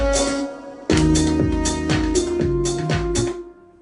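A band section of a summer-pop song plays without its first beat: a sparse opening gives way to drums, bass and chords all landing together on the second beat, then driving steadily in a loud, full mix.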